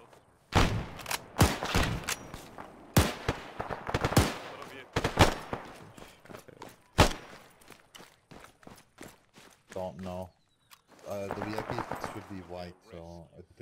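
Rapid bursts of weapon fire and sharp blasts in a military video game, loud and close, with heavy shooting at the start easing into scattered shots, followed by radio-style voices talking near the end.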